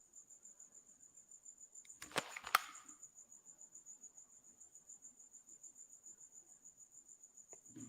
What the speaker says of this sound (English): So here's the thing with crickets.